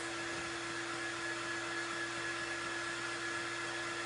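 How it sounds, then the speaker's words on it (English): A hair dryer blows steadily on a cake decoration, a loud, continuous whirring hum with an airy hiss that holds unchanged throughout, with no talking over it. "Yo, let's dry it."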